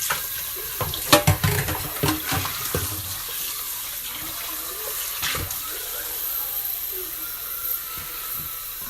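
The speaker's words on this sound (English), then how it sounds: "Then I'm going to add the hot water." Hot water poured while making fever tea, a splashing stream with a few louder sloshes early on, then settling into a steady close pour.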